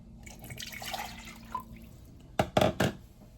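Five cups of water poured into a cooking pot for ham hocks and black-eyed peas: a soft trickle at first, then three short, loud splashing pours near the end, with no talk.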